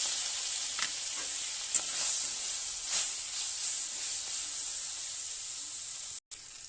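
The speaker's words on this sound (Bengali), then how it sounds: "তেলটা গরম হয়ে গেছে আর ফুলকোগুলোকে দিয়ে দেবো।" Small fish gills frying in hot oil in a kadai, a steady close sizzle with soft crackles and brief spits, running alone and ending in a short break near the end.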